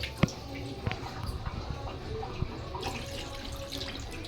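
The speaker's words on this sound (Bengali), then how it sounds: "মাংসটা ডুবে থাকবে এরকম পরিমাণ পানি দেবো" Water poured into a pot of beef being readied for boiling in a home kitchen, a running splashy pour with scattered drips and clinks, steady and close.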